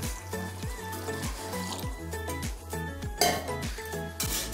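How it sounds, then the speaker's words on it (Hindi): Water is poured into a pan while preparing Maggi noodles, giving a close, steady trickling fill with light metallic clinks of the pan throughout. "एक पैन ले लिए हैं, उसमें थोड़ा सा पानी डालेंगे"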